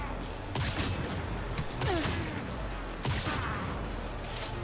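Gunfire from a sniper rifle in the video game Cyberpunk 2077, with three loud, sharp shots spaced about a second and a half apart over a steady, busy game background.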